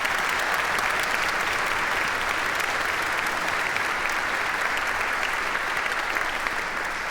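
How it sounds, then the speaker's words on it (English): Dense, steady applause from a symphony concert audience of the Topeka Symphony Orchestra fills the whole stretch, loud and even with no voices rising above it. "so let's give him another round of applause"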